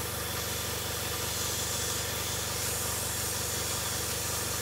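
An airbrush sprays thinned paint in a steady, even hiss with no spluttering, holding constant at close range for several seconds without a break.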